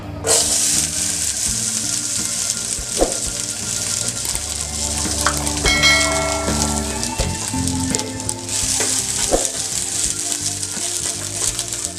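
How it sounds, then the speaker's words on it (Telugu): Sweet corn kernels fry in hot oil in a pan with a loud, continuous crackling sizzle and occasional metallic clinks, with no voices. "కొంచెం ఆయిల్ హీట్ అయ్యాక నేను స్వీట్ కార్న్ వేస్తున్నానండి."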